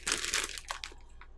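Someone bites into a crunchy, spicy Indian snack, giving a quick cluster of close, sharp crunches that fade into a few softer crackles within a second or so.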